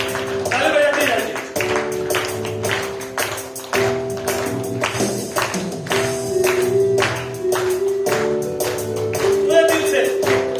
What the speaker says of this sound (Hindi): पूरे दिल से ताली बजाते जाएंगे।